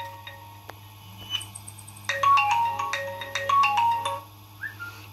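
A mobile phone rings with a melodic ringtone, a call alert triggered by an Arduino and NodeMCU gas detector with a GSM module, repeating tonal phrases at moderate volume over a low steady hum and faint ticks.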